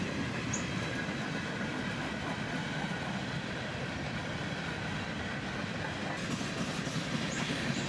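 Freight train boxcars, including Union Pacific and Conrail cars, roll steadily past with a continuous rumble and faint wheel noise, no voices.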